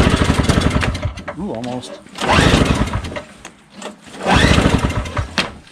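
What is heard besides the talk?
Craftsman Tecumseh 5HP snowblower engine pull-starting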